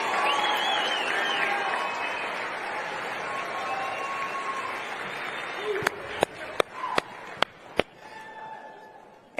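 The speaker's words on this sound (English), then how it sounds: "round of applause for Andrea Hanks, the White House photographer who took this photo" A crowd applauds for a White House photographer, with broad sustained clapping and cheering filling the room, then a few sharp loud claps and bangs near the end.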